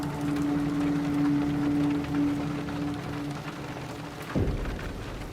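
Rain in the video game Silent Hill 2 Remake pours steadily onto nearby surfaces, a dense close patter with a low hum beneath and a brief thump near the end.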